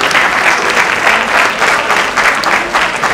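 Strong school assembly applause from students and teachers, a dense steady wash of many hands clapping loudly for the full stretch with no talk over it.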